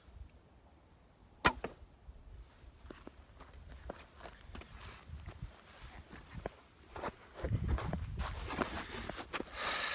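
An arrow shot from a bow during turkey season practice gives one sharp, loud snap near the start. Lighter scattered thumps and rustling movement follow, building to a busier, louder patch toward the end.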